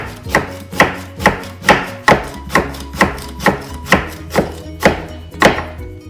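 A knife slicing through eggplant on a cutting board for Lao larb, about a dozen crisp, evenly spaced chops in a steady rhythm, close and clear with no talking.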